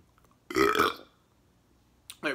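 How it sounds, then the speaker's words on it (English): A loud, drawn-out burp of about half a second from a man stuffed full of cookies during an eating challenge, close to the mic, followed by a short quiet pause and the start of another belch. "I need a burp."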